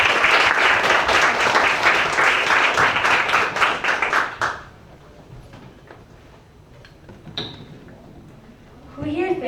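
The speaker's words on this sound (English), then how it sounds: "A round of applause for Rhea, please." Audience applause for a presenter at an education exhibition at Expo 2020 Dubai: dense, loud clapping for about four seconds, then cutting off sharply into a quieter room with scattered sounds and a voice beginning near the end.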